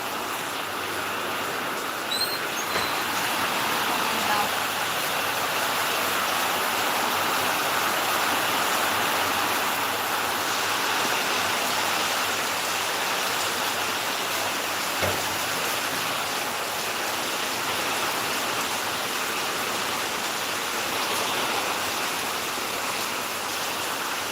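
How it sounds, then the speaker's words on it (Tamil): Heavy rain pours steadily and loudly for the whole stretch, a dense even hiss with no pauses and no voices over it. "நல்லா மழை பெய்யுதுங்க."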